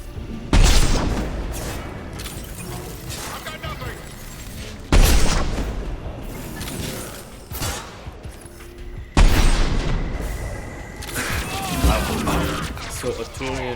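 Explosive tanks blowing up in Mass Effect 2 give three loud, deep booms several seconds apart, each fading into rumbling debris and gunfire, while a voice talks over the combat.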